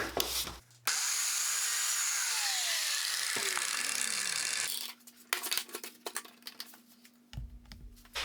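A biscuit joiner cuts into wood laid on sandpaper, beginning with a loud sustained whine as the motor runs and bites, then winding down, followed by close clattering and handling knocks of the workpiece and tool.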